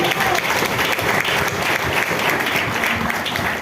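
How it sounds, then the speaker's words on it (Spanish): Loud, sustained applause from a church congregation during a sermon, continuous clapping from many hands with no pause. "Denle un aplauso, que eso lo puede creer"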